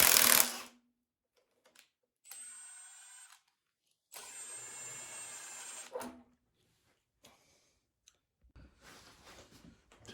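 An air impact tool works on the crank pulley of a Ford 351 Windsor engine during a teardown, firing in separate loud buzzing bursts of about two seconds each, with short pauses and faint clicks between them.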